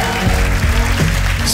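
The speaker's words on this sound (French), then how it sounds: "On va leur faire un tonnerre d'applaudissements." A comedy club audience applauds the comedians, with steady clapping over a low musical backdrop in a short burst.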